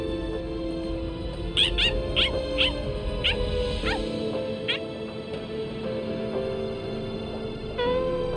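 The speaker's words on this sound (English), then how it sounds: "Stupid, annoying dog." A small dog in Bleach: Rebirth of Souls gives a series of high whimpering, yelping cries in quick succession, close and fairly loud over a steady game soundscape, then a brief final whine.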